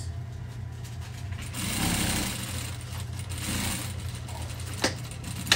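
Sewing machine stitching a half-inch seam allowance on a Buba dress, a steady fast mechanical hum with two slightly louder surges and a sharp click near the end, heard alone at moderate level.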